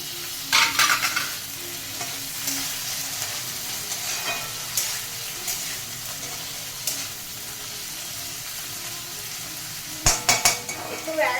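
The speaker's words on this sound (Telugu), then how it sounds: "ఇప్పుడు పన్నీర్ వేసుకుంటున్నాను" Paneer cubes going into a frying pan for palak paneer with onion paste, stirred steadily against a soft sizzle, with several sharper scrapes and clinks near the start and end.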